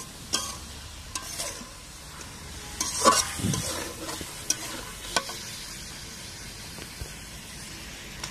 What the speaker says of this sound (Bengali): এরপর একটু হালকা নেড়ে চেড়ে নেবেন যেন মশলাটা ভালোভাবে ঢুকে যায়